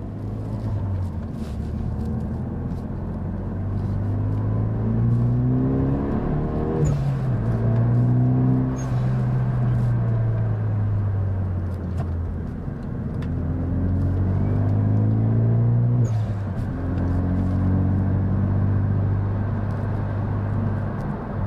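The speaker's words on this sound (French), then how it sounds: "ça va permettre de pouvoir mettre en charge le moteur" A Renault Megane 3 RS engine with a stainless steel exhaust revs up and settles repeatedly with a deep, resonant exhaust rumble, steady and close, with no talking.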